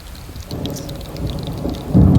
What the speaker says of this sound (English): in the middle of a lightning storm too, why not?